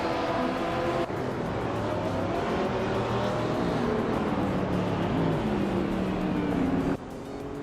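Video-game racing cars roar past one another in a tight pack, several engine tones overlapping and sliding in pitch as they overtake, loud and continuous before cutting off abruptly near the end.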